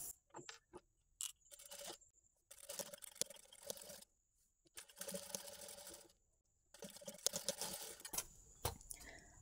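A sewing machine stitches a hemming strip at the waist of a work blouse in quick bursts of rapid mechanical chatter, separated by short pauses and faint ticks, fairly close and heard on its own.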